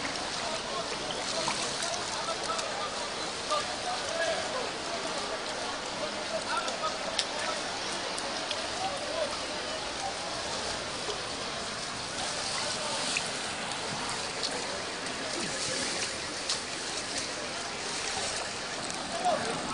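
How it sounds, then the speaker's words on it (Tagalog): Strong floodwater rushes past on foot, a dense, steady roar of fast water that runs unbroken and loud the whole way through, with people's voices occasionally mixed in. "Grabe tubig talaga."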